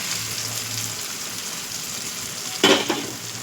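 An egg poured into sizzling, well-cooked masala for homemade tarka, with a steady broadband frying hiss and a brief louder splash and crackle near the end as it hits the pan.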